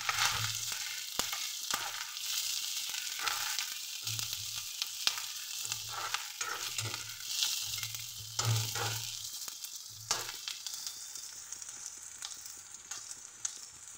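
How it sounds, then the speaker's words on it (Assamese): Onions sizzle in a pan of hot oil, a constant crackling hiss broken by repeated low scraping knocks of stirring at an uneven rhythm, fading slightly toward the end; nobody speaks. "এইখিনি অলপ সময় ভাজি ল'ম"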